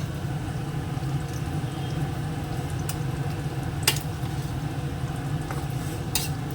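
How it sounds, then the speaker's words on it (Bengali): Food fries in hot oil in a home kitchen, a steady low sizzle and bubbling that runs throughout, with a few faint clinks of utensils against the pan. "আর দেখুন এদিকে এটা ভাজা চলছে"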